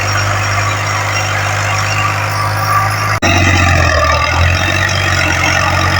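A Ghazi tractor engine runs with a loud, steady low rumble close by, briefly cutting out and then resuming with a rougher tone.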